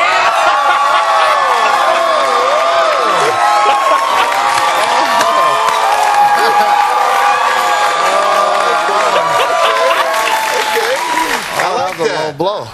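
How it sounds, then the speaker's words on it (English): A studio audience cheers and whoops loudly, a sustained roar of crowd voices with rising shouts and yells throughout, fading slightly at the end. "They do cheer well."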